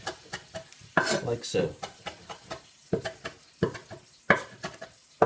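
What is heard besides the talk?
chopping parsley with a big butcher's knife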